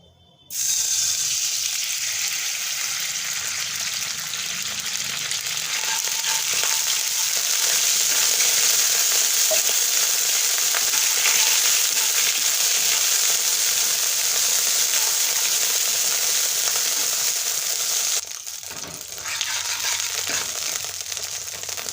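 Mustard oil and water sizzle in a frying pan, a loud, dense, continuous hiss close up that runs steadily for about twenty seconds and dips slightly near the end, with no voices.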